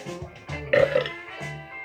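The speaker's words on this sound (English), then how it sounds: "coffee burp" A single close, loud burp after drinking coffee, a short throaty belch standing alone with no talk over it.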